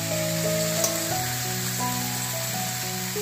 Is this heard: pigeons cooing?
no